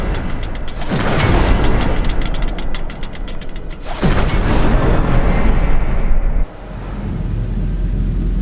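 Incendio fire spell cast in Hogwarts Legacy, loud whooshing roars of flame that surge twice and then drop to a lower sustained rumble.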